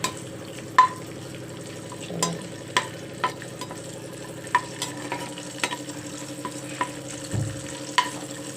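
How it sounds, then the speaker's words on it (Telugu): Mint leaves fry in hot oil for a stuffed brinjal curry, a low, steady sizzle broken by regular light clinks and scrapes of a stirring spoon, close by and with no voices. "ఇదో నేను పుదీనాకి వేస్తున్నాను ఫస్ట్ పుదీనా వేసాను"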